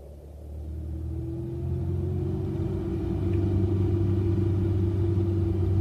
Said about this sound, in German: Ich habe ein Fahrzeug aus den 70er Jahren des 20. Jahrhunderts bestellt. Ein Automobil.